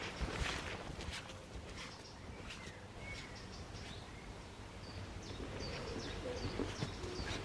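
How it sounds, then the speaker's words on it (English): Wood pigeons call faintly from distant treetops in a quiet wood, their soft coos blending with scattered chirps from other birds over a steady low outdoor hush. "Just the sounds of distant wood pigeons calling in the tops of the trees"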